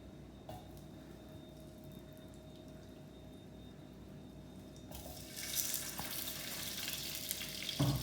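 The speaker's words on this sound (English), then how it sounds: "Let's hear the sizzling." Cooking fat sizzles in a pan for a lamb leg and Zanzibar pilau dish, a faint, steady crackle that swells louder partway through.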